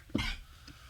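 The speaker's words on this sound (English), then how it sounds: "Look at me coughing." One short, sharp cough from a man, close and clear, followed by a faint trailing breath in an otherwise quiet room.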